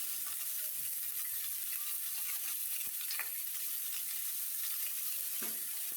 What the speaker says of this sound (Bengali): এখন আমি ভালোভাবে আলুটা ভেজে নিব।